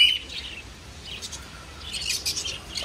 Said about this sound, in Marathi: इथे ग्रीन आफ्रिकन लव्ह बर्ड्स आहेत